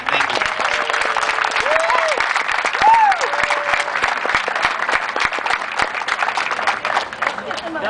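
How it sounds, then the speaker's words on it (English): Sustained applause for World War II veterans, a crowd clapping steadily and densely for several seconds, with voices and cheers mixed in. "So if we could give them a round of applause."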